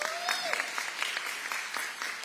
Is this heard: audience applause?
yes